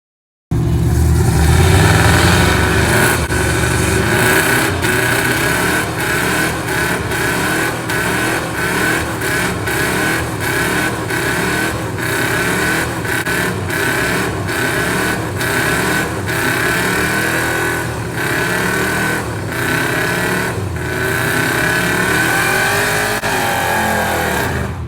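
A 1986 Pontiac Trans Am engine at a burnout contest, a loud continuous roar with rhythmic surging revs and throttle blips repeating steadily, no talk.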